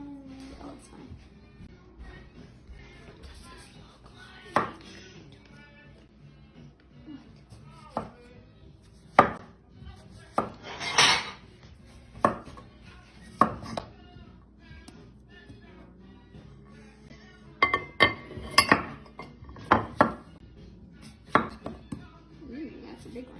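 Vegetables being cut up for borscht and dip, scattered knife chops and taps on a board with occasional clinks of dishes, irregular and close, with faint voices in the background.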